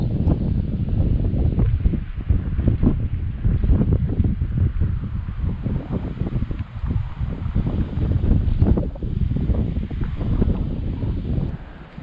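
Strong wind buffets the microphone near Chernobyl, by the village of Ilovnitsa, with a constant loud roar and rumble, gusting throughout without pause.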